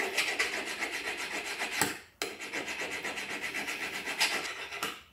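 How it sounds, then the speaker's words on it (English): Hand filing a metal ring during jewelry making to remove about half a millimeter of width: steady rhythmic rasping strokes, close and fairly loud, with a brief pause near the middle before the strokes resume. "I have about a half of a millimeter in width of it that I need to file off"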